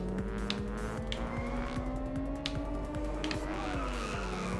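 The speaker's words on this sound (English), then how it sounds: "Oh, that was not a good drift." A car drifts with sustained tire skid and squeal in the Inertial Drift racing game, over a steady engine drone, loud and continuous with a few brief sharp clicks.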